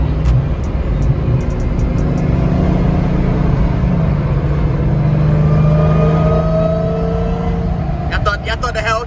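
White Lamborghini supercar driving past at a street cruise, its engine a loud sustained drone with tones shifting as it moves, while people talk over it.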